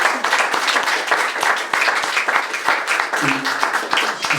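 Audience applause at a gallery's tenth-anniversary celebration, steady dense clapping from a crowd filling the whole stretch, with a few voices cheering underneath.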